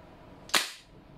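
Airsoft gun with blowback firing a single BB: one sharp, close snap with a short hissing tail, isolated against a quiet background.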